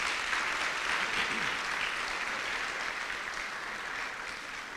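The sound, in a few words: audience applause for the Board of Trustees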